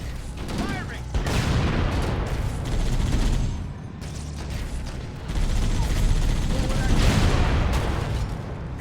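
Heavy gunfire in Halo: Combat Evolved battle, loud sustained bursts of rapid shots and booms in two long waves with a short lull between, voices partly audible beneath the shooting.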